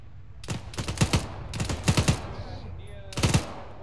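Bursts of automatic gunfire during a military operation crack out in three rapid clusters of sharp, loud shots, with brief quiet gaps between them and a faint radio tone near the end.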